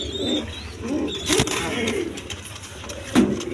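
German flager pigeons cooing close by in soft, repeated low coos, a few brief sharper sounds among them, with faint background noise.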